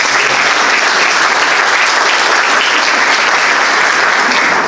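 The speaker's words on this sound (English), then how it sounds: "Yeah, you can give that a hand of applause." Loud, dense audience applause at a mayor's State of the City speech, a continuous wash of many hands clapping at even intensity throughout.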